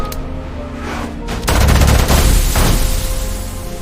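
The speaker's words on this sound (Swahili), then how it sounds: "Risasi mbili za Tyson zilipishana na bega la Musa" Gunshot sound effects in a Swahili audio drama, a loud crackling volley of shots over a steady low background hum, lasting a couple of seconds before fading back to the underlying drone.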